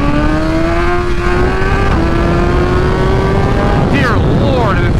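BMW M1000XR motorcycle accelerating hard in second gear, a loud steady engine whine climbing in pitch up close, with wind rush throughout and a shift near the end.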